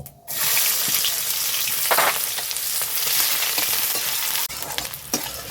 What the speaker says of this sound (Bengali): পেঁয়াজটা গোল্ডেন কালার অবধি আমি ভেজে নেব